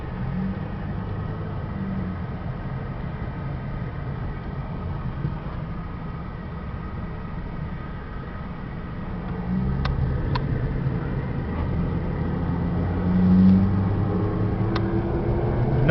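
A Chevy Cavalier car accelerates on the road toward highway speed, a low steady engine and tire rumble from inside the cabin that grows slightly louder partway through, with no talking.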